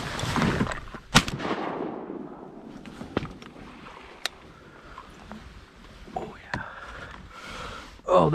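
A single sharp shotgun blast while duck hunting from a kayak on Texas public land, loud and close, followed by quieter rustling and breathing, a few light knocks and clicks, and a brief louder scrape at the end.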